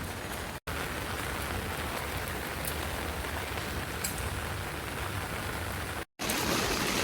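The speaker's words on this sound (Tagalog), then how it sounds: "Nabutan pa kami na malakas na ulan itong alaga ko." Heavy rain pours down steadily in a dense, continuous hiss, loud and close, with two very brief dropouts.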